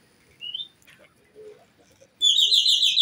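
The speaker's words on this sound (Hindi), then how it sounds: "कबूतरों को देखें जी" Birds in a loft of colourful mosaic pigeons on a farm give a short high chirp, then loud, continuous close chirping and twittering fills the final second.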